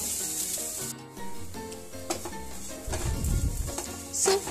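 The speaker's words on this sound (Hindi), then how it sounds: "इसे कुछ देर चलाते रहिए, वरना ये नीचे से जल जाएगा, और इसे धीमी आंच पे ही भूनिएगा।" Almonds stirred and roasted in a pan over low heat, a soft scraping and rubbing of the spoon against the pan with a faint sizzle underneath, growing briefly louder near the end.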